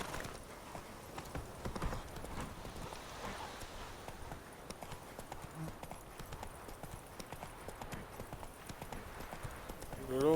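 A horse gallops in The Witcher 3 video game, producing a quiet, rapid and steady clip-clop of hoofbeats that runs continuously throughout.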